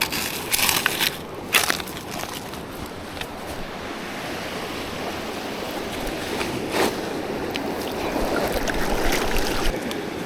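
A gold pan swirls water and black sand with a continuous wet rushing and sloshing texture. A few sharper knocks come near the start, and no one talks.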